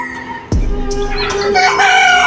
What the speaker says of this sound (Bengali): উপরে মুরগির ফার্মও করা আছে, উপরে মুরগি আছে দেখেন